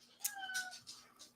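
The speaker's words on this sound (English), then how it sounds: "This is the really, really beautiful kitty." A cat gives a series of soft, high meows, several short cries in quick succession, faint and close with no talk over them.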